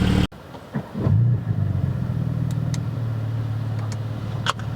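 A Porsche GT4 with an aftermarket Milltek exhaust starts with a sharp burst and rev, then settles into a deep, rumbling idle close by, with a few brief clicks near the end.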